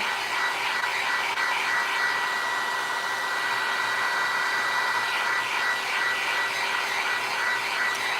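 A hair dryer blows steadily on a terracotta pot to dry fresh paint, giving a loud, close, unbroken whooshing whine that holds level throughout.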